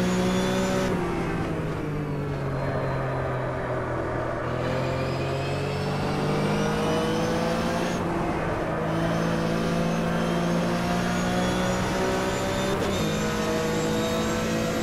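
A Porsche RSR race car engine howls steadily around Spa-Francorchamps in the Automobilista racing game, close and loud, its pitch dropping and climbing through several gear changes with no talk over it.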